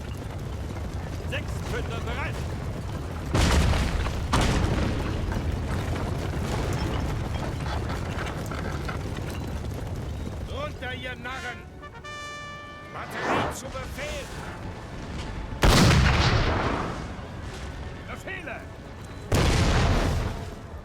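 Musket volleys and booming artillery fire roll across a Napoleon Total War battlefield in a Prussian campaign, several heavy blasts at intervals over a constant din of distant gunfire, with a commentator talking throughout.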